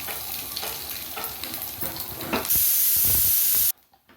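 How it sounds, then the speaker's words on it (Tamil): Dried chili, urad dal and crushed garlic are tempered in hot oil in a pan, giving a close, steady sizzle with stirring scrapes. A sharp, loud hissing surge follows, then cuts off abruptly to near quiet. "தாளிப்பு வறுபட்டுடுச்சுங்க"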